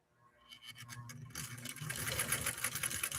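A vintage Swedish Nordic Husqvarna Automatic sewing machine runs a straight stitch and zigzag, starting with a few slow, separate needle strokes that speed up into a steady, fairly loud rapid whirring, close by.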